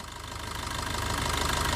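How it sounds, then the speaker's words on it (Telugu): The diesel engine of a 2019 Maruti Brezza ZDi idles with a steady, rhythmic knocking clatter. It is heard alone and close, and it swells slightly louder over the short stretch. "అసలు ఇంజిన్ బీటింగ్ అయితే చాలా బాగుంది సార్"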